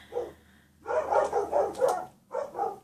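Dogs barking indoors, a quick run of several sharp barks, then a pause and two more, moderately close and fairly loud.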